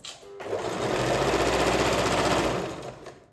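A sewing machine stitching a child's nightie runs in one quick, continuous burst of rapid mechanical clatter for about two and a half seconds, close and loud, starting and stopping abruptly.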